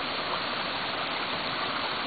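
A waterfall and stream beside a farm house pour with a continuous, dense rushing hiss, steady and close throughout, with no voices.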